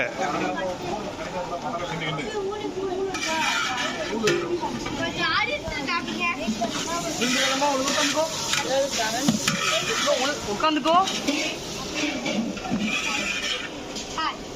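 Two people stir biryani cooking over sand at Rajesh Nellai Biryani in Mukuperi, giving a continuous scraping, churning sound with sizzling beneath it, under steady nearby talking and background crowd chatter.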